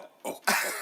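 A person imitates a cough with two short, rough bursts. The second burst is louder and longer, close and clear with no speech.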